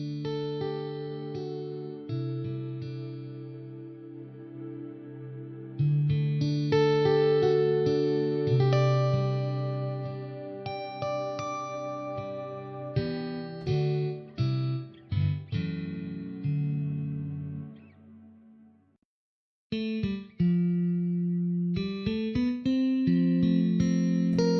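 Sustained synthesized tones run through shifting Fracturesound Hemisphere plugin presets, with chorus, distortion and echo changing over time. There is a brief silence near the end before the sound resumes.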